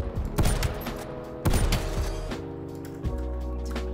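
Rapid gunfire bursts ring out three times in a video game, sharp cracks over a sustained droning background hum.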